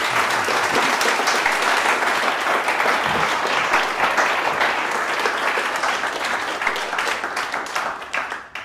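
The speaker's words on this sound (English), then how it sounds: "I think a round of applause is due" A conference audience applauds after an on-stage conversation, dense sustained clapping filling the room, loud and even before tapering off near the end.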